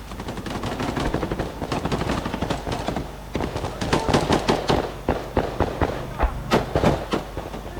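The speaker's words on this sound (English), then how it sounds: "The Browning's firing" A Browning machine gun fires in combat in rapid, crackling bursts, repeated throughout with short gaps, sharp and fairly close, with faint voices in the background.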